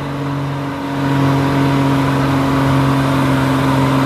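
A truck engine labors loudly up a steep hill, a steady droning rumble that swells slightly after the first second and holds constant.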